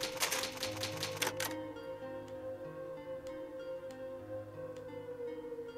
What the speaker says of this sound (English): It's an old typewriter. You can save your progress.